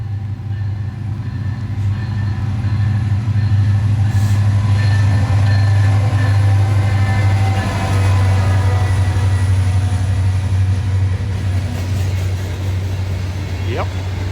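A Tropicana freight train passes in the rain, a steady loud low rumble with a constant droning tone across the whole stretch, wheel noise and faint squeals near the end.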